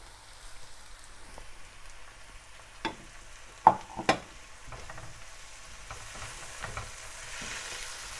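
Onions frying in a pan sizzle softly as tomatoes are tipped in and stirred, with a few sharp, close clatters mid-way over a steady low hiss.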